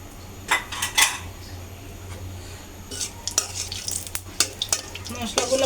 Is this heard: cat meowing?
no